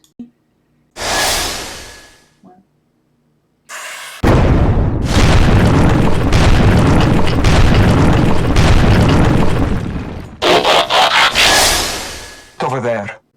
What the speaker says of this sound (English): That sounds like an explosion from a distance.